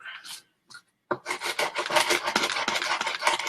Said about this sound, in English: I'm taking the sandpaper, leaning it flat against my desk, and going like that